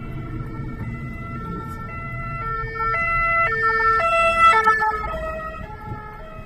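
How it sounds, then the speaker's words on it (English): A French ambulance siren sounds on a street outdoors, its two-tone wail alternating steadily between pitches, rising in loudness toward the middle as it nears and passing over a low rumble of road traffic. "ambulance."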